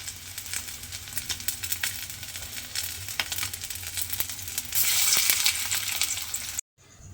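Morola fish pakoras fry in hot oil, a steady crackling sizzle that swells louder near the end before cutting off abruptly.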